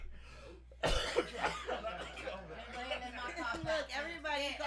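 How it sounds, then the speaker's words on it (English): Several people cough harshly and repeatedly in an indoor gathering after smoking weed, with bursts of throat clearing and chuckling mixed in as voices overlap close by. "everybody coughing now"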